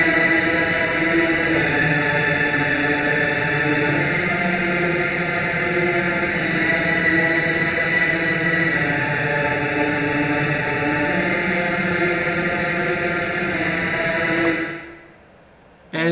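Ring-modulated synthesizer recreating the Doom Eternal main menu theme holds a dense, harsh, screaming drone with wavering layered tones, loud and continuous, then cuts out abruptly near the end.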